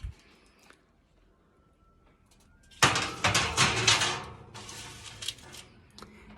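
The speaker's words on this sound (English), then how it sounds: "you put it in the oven." Shrinky Dinks going into a preheated oven: a quiet stretch gives way to a loud clatter and rattle as the oven rack and tray are handled, a sustained metallic jangle that fades into lighter knocks.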